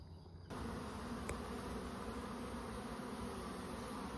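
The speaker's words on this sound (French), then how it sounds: "les abeilles, travailleuses extérieures, sont en train d'apporter de la propolis pour boucher les interstices" Honeybees at a hive bringing in propolis, a dense, steady buzzing swarm close by, starting up after a brief quieter moment and continuing without speech.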